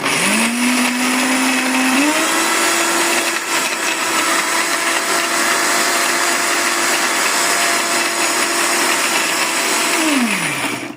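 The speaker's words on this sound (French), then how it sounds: "Alors, je mixe tout et après je reprends quand je vais mettre l'eau." Blender whirring through soap flakes from grated bar soap for homemade laundry detergent, a loud steady motor drone that rises in pitch early on, holds for several seconds, then winds down at the end with no talking.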